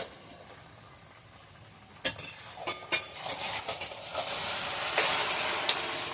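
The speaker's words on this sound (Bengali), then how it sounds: "ঢেঁড়স ভাজা হচ্ছে" Okra frying in a pan for a Bengali home-cooked Puja meal, a soft steady sizzle building after a few sharp clatters of stirring utensil against the pan, close and alone with no talk.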